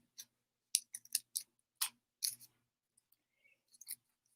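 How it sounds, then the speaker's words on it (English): Scissors cutting through folded paper for a snowflake, a quick series of crisp snips up close with short gaps, then a few faint ticks, no talking. "Ooh, and you can even fold it and cut this like this."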